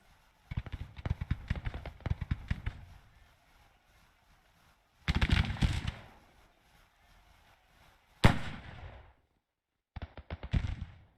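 Ragged volleys of musket fire in a Civil War battle in Grand Tactician, sharp crackling bursts in several separate groups with pauses of near silence between them, one single loud crack standing out.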